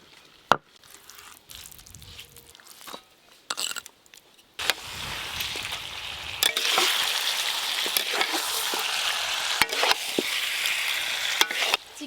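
Chicken sautéing in a pan for a red curry, a steady loud sizzle building after a few quiet clatters and stirs, with occasional scraping strokes and no talk.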